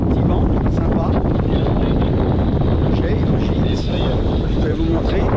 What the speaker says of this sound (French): Alors, on a un petit vent